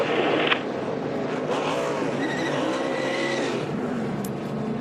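NASCAR race cars wrecking during a road-course race, with a loud roaring engine wash and tire skid overlapping continuously across the whole stretch.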